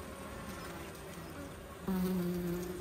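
Honey bees buzz steadily during a varroa mite inspection of the hive, a close, continuous drone that swells louder and more tonal toward the end, with no talking.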